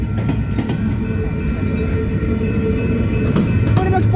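A freight train rolls past a railroad crossing at milepost 529.3 in St Paul, Minnesota, with a steady, loud rumble and rattle of cars from start to end and faint tonal squeals near the close.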